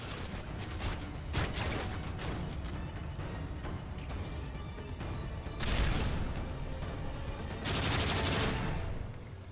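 Dense game gunfire from Modern Warfare 3's Survival mode, a near-continuous fusillade of rapid shots with louder bursts around the middle and end, no voices heard.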